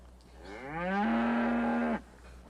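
A single long cattle moo swells up and holds for about a second before cutting off, clear and close against a quiet background.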